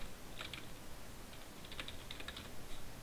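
Computer keyboard keys typed in short bursts while renaming a layer in Photoshop, clustered clicks near the start and a denser run toward the end, steady and close.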